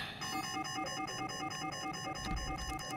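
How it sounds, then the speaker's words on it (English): An intruder alarm in the Shadows of Doubt video game rings steadily and loudly, a repeating electronic tone pulsing in a fast, even rhythm with no voices over it. "So apparently I have triggered the alarm."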